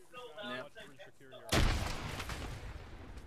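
A frag grenade bursts in a military squad shooter game with a sudden loud boom, followed by rumbling gunfire and artillery. A player talks over the radio just before the blast.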